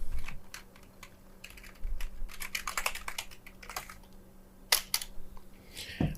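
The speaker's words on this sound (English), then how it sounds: "What we'll do is go into the search box and hit type in control net." Quick bursts of computer keyboard typing, close and quiet, clattering in uneven clusters of keystrokes with short pauses between them, no voices.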